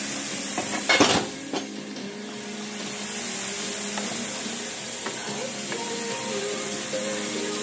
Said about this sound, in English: I'll saute the mushrooms.